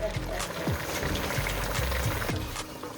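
Collard greens boil in a pot of water, a steady bubbling wash under close talk, with faint pouring-like gurgles running throughout.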